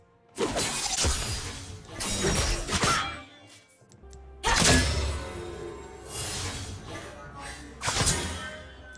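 Punchy League of Legends Akali skin ability effects for the Q and passive: sharp shattering impacts and whooshing bursts in several loud clusters, with brief gaps between them.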